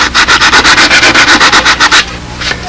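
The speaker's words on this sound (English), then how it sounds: "Clean it out with some folded sandpaper." Folded sandpaper rubbing back and forth on a model aircraft part, a fast, even rhythm of about a dozen loud, close scratchy strokes, then stopping.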